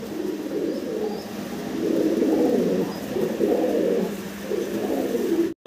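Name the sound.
pigeons cooing in breeding mood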